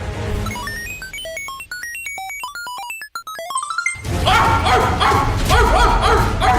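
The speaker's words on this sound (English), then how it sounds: "A dog? Why would you be a dog?" A dog barks and yips in a rapid, loud cluster of overlapping bow-wows, following a run of bright electronic tones that drop out abruptly.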